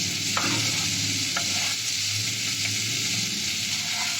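Loud, continuous sizzling of onions frying with green peas in a hot wok, with occasional soft stirring scrapes, close up and without talk.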